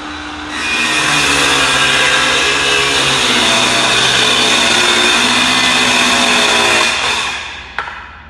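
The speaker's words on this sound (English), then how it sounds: "I'm going to demonstrate cutting a piece of lumber with the circ saw now" A handheld circular saw spins up and cuts through a piece of lumber, a loud, close whine that holds steady through the pass before winding down, ending with a brief clunk.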